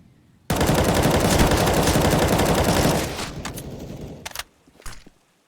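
A loud, sustained automatic burst rips through Counter-Strike's Inferno map for about two and a half seconds, tapers into scattered rounds, then a few final separate shots ring out.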